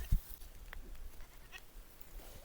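A tame ram on a farm, heard with a faint, fairly distant bleat or two against quiet outdoor background noise, no speech.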